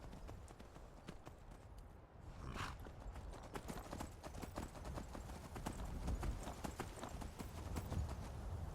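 Horse hooves in the video game Skyrim clop in a steady walking rhythm, close and distinct, with a brief snort or breath partway through over a low outdoor rumble.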